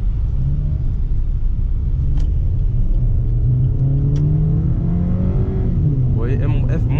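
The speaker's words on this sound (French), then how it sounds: "Elle tire, voilà, elle monte bien dans les tours avant de passer." Suzuki Ciaz engine revving high before a gear change, a loud climbing drone that rises steadily in pitch before dropping off, heard from inside the car.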